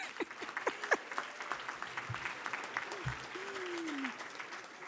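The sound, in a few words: audience applause at ceremony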